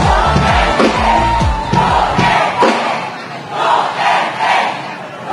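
Concert crowd at a live band show shouting a loud chant, with repeated rhythmic collective yells swelling and fading over several seconds.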